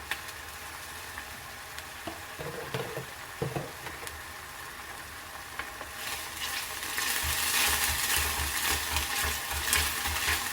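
One tablespoon of ground chili paste frying in a pan. A few soft knocks and stirring clatter come first, then a loud, steady sizzle rises and holds to the end with no one talking.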